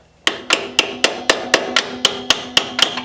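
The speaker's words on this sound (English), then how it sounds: "it's time to start tapping with my hammer" A hammer taps a metal footpeg on a BMW F800GS motorcycle in a steady, quick rhythm, about a dozen sharp ringing strikes close by, with no voices.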